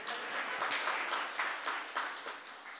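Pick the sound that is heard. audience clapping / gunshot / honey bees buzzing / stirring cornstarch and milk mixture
audience clapping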